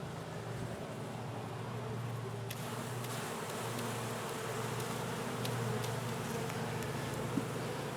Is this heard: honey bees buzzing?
yes